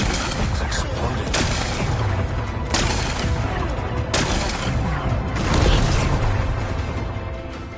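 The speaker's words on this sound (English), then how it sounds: "It's exploding." Explosions and gunfire in the video game Horizon Forbidden West: a dense, rumbling battle soundscape with several sharp blasts at intervals, continuous and fairly loud.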